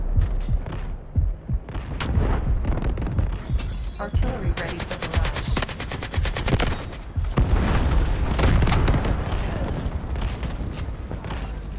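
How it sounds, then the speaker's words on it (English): Artillery strike explosions and heavy gunfire in Delta Force: dense bursts of booms and rapid machine-gun-like rattles run throughout, loud and close, mixed with occasional talking. "Artillery."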